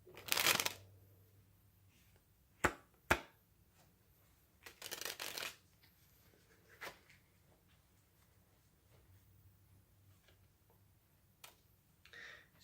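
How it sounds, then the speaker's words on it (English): Playing cards being dribbled during a card trick, heard as a few short, sharp riffling bursts separated by quiet gaps, close and fairly faint. "it's dribbling the cards so far down, letting them take a peek, pulling it back on, dribbling the cards the rest of the way"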